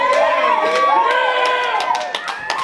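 A rap battle crowd cheers and shouts loudly and continuously, a dense wash of voices with sharp whoops rising above it throughout.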